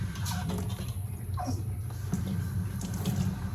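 Cold water runs steadily from a tap into a sink over a cast iron pan, a constant close splashing rush with slight fluctuations.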